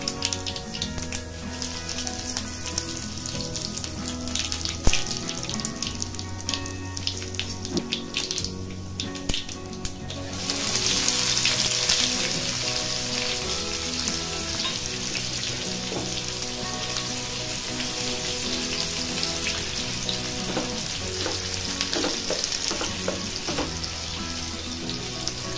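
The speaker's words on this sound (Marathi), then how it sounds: "तेल गरम झालेलं आहे, यामध्ये मोहरी टाकून घ्यायची आहे, जिरं टाकून घ्यायचं आहे।" Mustard seeds and cumin sizzle in hot oil for Marathi potato bhaji, with scattered clinks at first, then a loud, steady frying hiss that swells midway and holds to the end; no one speaks.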